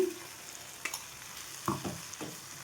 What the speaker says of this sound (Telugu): ఈ విధంగా పేస్ట్ మొత్తం వేసేసుకొని కలిపేసుకోవాలండి.